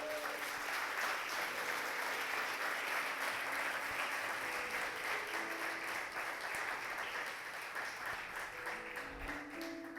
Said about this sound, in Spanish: ¿Quieres darle un aplauso al Señor?